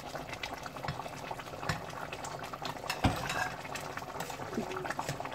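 Fish simmering in soumbara sauce bubbles steadily in a pot, a soft continuous boil with a few light clinks of utensils over it.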